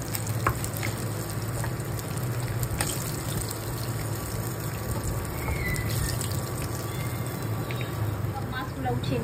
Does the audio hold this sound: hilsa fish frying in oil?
yes